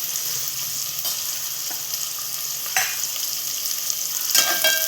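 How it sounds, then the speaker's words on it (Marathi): Onions fry loudly on high gas in a pan for a prawn rice dish, a constant crackling sizzle punctuated by sharper spatula scrapes and clinks as they are stirred; no voices. "फास्ट आहे गॅस, कांदा व्हायला पाहिजे ना. ह्याचा खूपच आवाज येतो ना."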